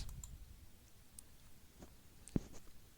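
A computer mouse clicks once, sharp but faint, against a quiet low room hum while using circuit simulation software.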